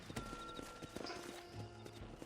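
Several horses' hooves clip-clop on the ground as riders dismount in the Western video game Red Dead Redemption 2, close and fairly steady over a low musical score, with a brief whinny.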